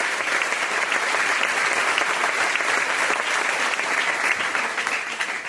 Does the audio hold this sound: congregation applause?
yes